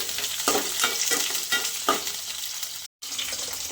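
Chopped shallots sizzle in hot oil as they are stirred for a Kerala banana-stem thoran, with a steady frying hiss broken by rhythmic spatula scrapes and a brief dropout near the end.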